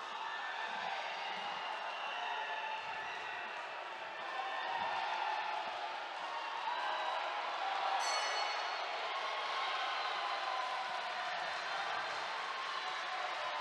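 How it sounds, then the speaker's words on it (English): Crowd at a women's world boxing championship semifinal in Istanbul, a steady distant roar of cheering and applause that holds for the whole stretch, with no clear voice standing out. "And the crowd absolutely loving that at the end of round one"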